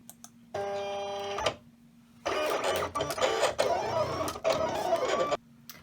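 A Silhouette Cameo cutting machine with an auto blade slices faux leopard-print leather. It gives a short whirring motor burst, a pause, then longer stretches of buzzing, shifting mechanical movement that stop and start. It is close, with no talking.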